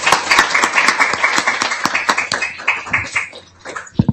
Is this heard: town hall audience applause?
yes